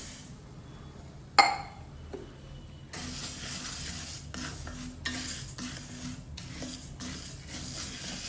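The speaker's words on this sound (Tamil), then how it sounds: "இனிமேல் அந்த உளுத்தம்பருப்பை போட்டு வறுத்துடலாம்." Urad dal is stirred and dry-roasted in a pan over a low flame, a spoon scraping in repeated rhythmic strokes over a soft sizzle, with one sharp metallic clink early on; no speech.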